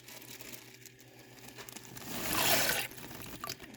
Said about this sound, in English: Just added in the soup mix.